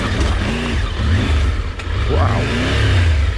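An off-road motorbike engine revs in second gear on a long coast-to-coast trail ride, rising and falling loudly and close by, with a brief exclaimed voice over it.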